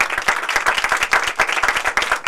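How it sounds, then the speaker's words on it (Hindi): Loud, dense applause from a church congregation at a Christmas meeting, rapid claps packed together and sustained evenly for a couple of seconds with no voices over it. "यीशु के लिए जोरदार तालियां।"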